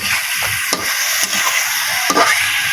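Papaya and jiyel fish sizzle steadily in a pan of fried spices while being stirred, with a constant bright hiss and several soft scraping strokes of the spoon, close and loud.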